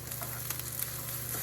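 Fried rice with cabbage gets stirred in a hot pan, a steady loud sizzle running under repeated scraping and tossing strokes, with no voices.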